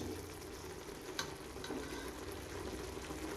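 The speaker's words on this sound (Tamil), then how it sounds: "இஞ்சி பூண்டு பேஸ்ட்டு நல்லா வதங்கி வந்துடுச்சு பார்த்துக்கோங்க" Ginger garlic paste frying in a pan for chicken fry, a soft steady sizzle with a few faint clinks of stirring, low and continuous with no talking.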